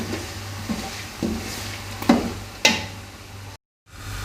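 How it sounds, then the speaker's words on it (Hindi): Ginger garlic paste frying with onions and meat in a pot for chicken pulao, a low steady sizzle broken by several sharp spoon scrapes and clacks against the pan, ending in a brief silence. "अब हम इसमें अदरक लहसुन का पेस्ट डालेंगे। इसको 2 मिनट तक फ्राई करेंगे।"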